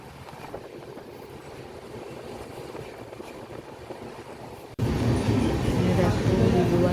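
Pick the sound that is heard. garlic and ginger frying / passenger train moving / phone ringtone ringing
passenger train moving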